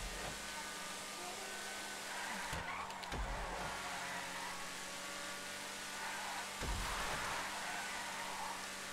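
Car engines race in GTA V Online, a steady roaring drone of several vehicles throughout, broken by a couple of sharp thuds and crashes near the start and again toward the end.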